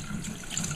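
Tap water runs steadily while buckwheat is rinsed for porridge, a soft continuous splashing stream, moderately quiet and brief.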